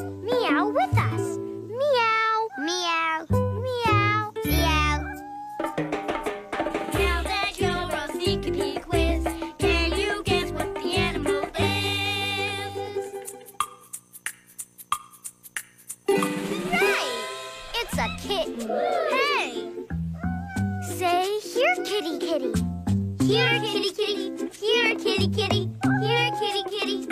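Cartoonish cat meows repeating among bright, bouncy music, with a voice joining in and imitating the meowing.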